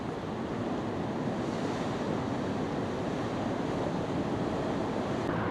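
Calm ocean waves wash against the rocky coast at Boca do Inferno in Cascais, Portugal, a steady, even roar of surf mixed with wind buffeting the microphone and no voices.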